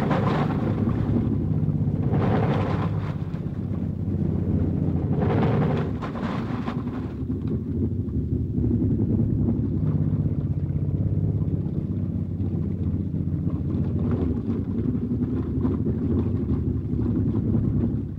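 An amphibious military vehicle from 1943 driving on water: a loud, continuous engine rumble mixed with rushing water and wind-like wash that persists throughout.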